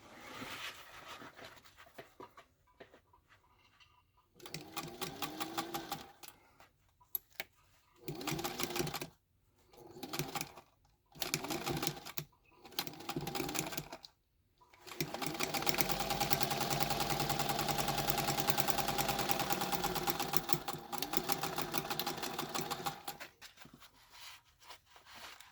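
Domestic sewing machine stitching a zipper pocket with an overlay, running in several short bursts and then one long steady run, close and clear with no talking.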